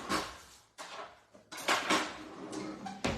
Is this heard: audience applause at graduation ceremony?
no